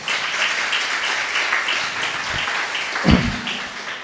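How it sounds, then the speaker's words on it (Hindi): A church congregation claps together during a sermon, a broad wash of applause that holds steady with a brief louder bump near the end and no voices on top. "आपने ताली बजाई, मुझे अच्छा लगा"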